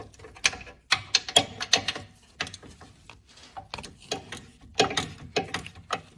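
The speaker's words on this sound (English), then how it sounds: "loosen and remove the two bolts holding each bushing bracket to the subframe" A socket ratchet clicks in quick uneven bursts while loosening long bushing bracket bolts on the front subframe of a 2010-2015 Lexus RX350, close and clear with short pauses between strokes.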